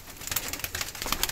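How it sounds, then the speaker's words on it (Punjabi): A large flock of pigeons coos and calls close by, with overlapping rhythmic coos and soft fluttering throughout a short stretch, with no talking. "ਵੱਡੇ ਕਬੂਤਰ ਆ ਸਾਰੇ"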